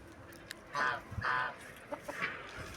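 Geese give short honking calls, two louder bursts followed by fainter ones, as a drake duck chases them around a poultry yard with hens; the calls are moderately close with background noise between them.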